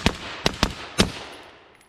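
Rifle shots from a shooter testing a PRI adjustable gas block ring out at a range: four sharp reports in quick, uneven succession, the last decaying into a fading echo.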